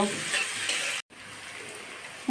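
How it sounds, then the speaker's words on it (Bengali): Onions salted and frying in a pan give a loud, steady sizzling hiss, cut by a brief moment of silence before the frying sound resumes. "আমি পেঁয়াজটা লাল লাল করে ভেজে নেব"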